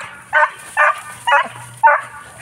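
A young griffon hunting dog, a 15-month-old female, gives four sharp barks at an even rhythm, fairly close and loud, during a hare hunt outdoors.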